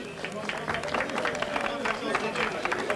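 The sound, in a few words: crowd applauding cyclists at race ceremony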